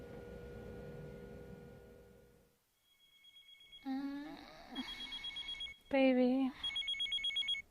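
A telephone rings in a video game, sounding as a few loud electronic ring bursts with pauses between them, arriving after a brief silence and overlapping with speech.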